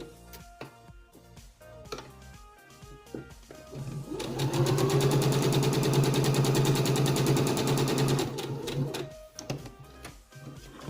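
A sewing machine runs a long basting stitch along a zipper seam, a steady continuous whir of rapid needle strokes lasting about four seconds, close and loud after quieter handling noises.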